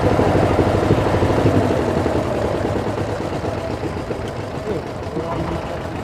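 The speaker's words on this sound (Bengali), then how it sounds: "ওই যে নৌকাটা দাঁড়িয়ে ছিল ওই চলে গেল" A departing boat's engine drones steadily as it pulls away, a continuous low rumble that eases off slightly toward the end.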